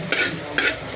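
Sisig with egg sizzles in a hot pan, with two quick scraping stirs cutting through the steady frying crackle in a short close-up burst.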